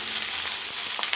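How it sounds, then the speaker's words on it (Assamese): Vegetables tipped into hot oil with browned onions and potato, giving a loud, steady close sizzle and crackle with faint stirring, no talking. "এতিয়া দি দিম ইয়াত চব্জিখিনি"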